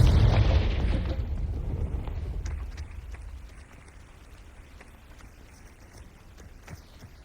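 A Confringo blasting spell detonates in Hogwarts Legacy on PS5, a loud booming explosion with a deep rumble that slowly decays, followed by faint scattered crackles and debris patter.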